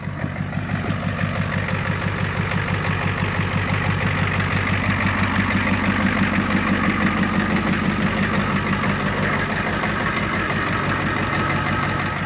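A non-turbo 7.3 IDI diesel idles with a steady, loud clattering knock, its rapid rhythmic rattle holding evenly close to the microphone throughout with no talking.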